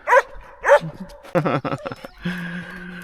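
Dogs on a vanlife trip in the Scottish Highlands, with two short barks followed by whimpering and yipping whines that rise and fall. The sound is close and fairly loud, with no talking.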